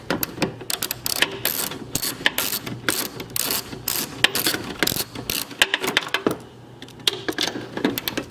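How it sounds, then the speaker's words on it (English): Ratchet clicking rapidly and repeatedly as it loosens 10mm bolts in the fender well of a 2019 Mustang Ecoboost, dense close mechanical ticking in quick bursts with short pauses, no talk. "So I've got my ratchet on one of them already."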